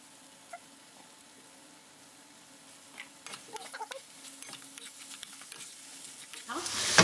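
Egg frying in a pan over medium-high heat, a soft crackling sizzle with scattered pops that stays faint, then swells to a loud, dense hiss in the final second.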